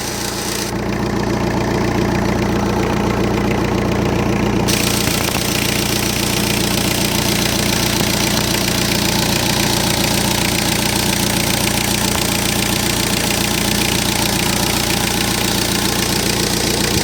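A 2000 Hyundai Porter diesel truck engine idles continuously at close range, steady and rumbling, with a low throbbing knock and no voices.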